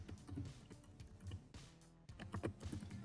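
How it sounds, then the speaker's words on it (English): A computer keyboard clicks in quick, irregular bursts of keystrokes with short pauses between them, close but quiet, with no one speaking. "Select the text tool, left click, and now type your text."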